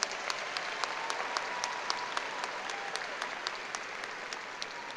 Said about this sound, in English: Let us all please give them another wonderful round of applause.